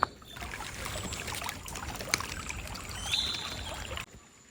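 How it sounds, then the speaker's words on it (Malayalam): A small stream runs beside a temple deep in dense forest, its water trickling and babbling steadily at moderate level before cutting off near the end. "ഈ ക്ഷേത്രത്തിൻ്റെ അടുത്തായിട്ടൊരു ചെറിയൊരു അരുവിയുണ്ട്"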